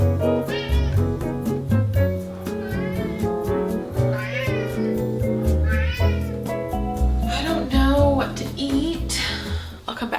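Several house cats meowing insistently before dinner, a close, loud run of repeated rising and falling meows and yowls that overlap one another, with little pause between calls.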